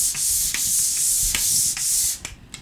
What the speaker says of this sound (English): Move up and down a little bit so that you're kind of feathering out your sanding